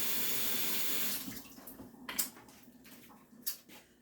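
Running tap water pours steadily into a kitchen sink while hands are washed, a constant hiss that cuts off after about a second, followed by a few faint splashes and clinks.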